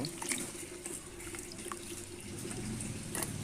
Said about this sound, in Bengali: শেষবারের মতো ধুয়ে এই পাত্রে রেখে দেব